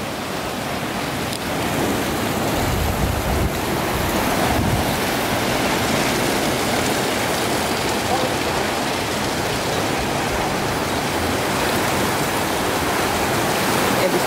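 Strong ocean surf crashing against the shore near sea caves in Bali, Indonesia, a steady broadband roar of breaking waves with wind buffeting the microphone throughout.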